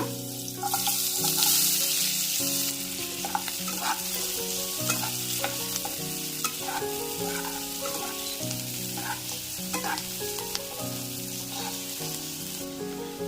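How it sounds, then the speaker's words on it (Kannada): Onions frying in a little hot oil in a pan for a tempering, a steady sizzle with repeated stirring and scraping against the pot, close and continuous with music playing underneath. "ಇದಕ್ಕೆ ನಾನೀಗ ಈರುಳ್ಳಿ ಹಾಕೋತಾ ಇದ್ದೀನಿ ಒಗ್ಗರಣೆಗೋಸ್ಕರ"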